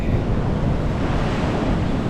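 A large wave breaks and rushes up a coral beach at South Point, Hawaii, a loud, continuous churning roar of surf close by, with wind rumbling against the microphone throughout.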